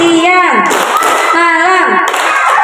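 A group of mothers clap along in a call-and-response hand-clapping game led by a woman who chants the cues. Short bursts of clapping break up her sung calls, and the voices and claps stay close and loud.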